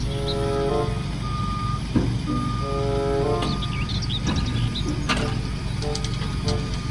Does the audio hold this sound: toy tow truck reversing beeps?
yes